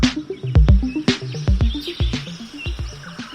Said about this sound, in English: The melodious sounds of trills and tweets, whistles and warbles are a harbinger of spring.